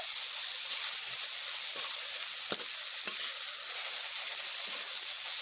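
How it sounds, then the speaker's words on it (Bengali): Ridge gourd slices frying in oil in a pan with salt, a steady soft sizzle with occasional stirring scrapes, close and alone. "ভেজে নেব ঝিঙেগুলোকে ঝিঙেগুলোকে এইভাবে আমার ভাজা প্রায় হয়ে এসেছে"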